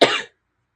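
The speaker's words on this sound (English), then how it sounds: "As I'm talking and coughing." A single short, sharp cough from a sick person, close and loud, cutting off abruptly into silence.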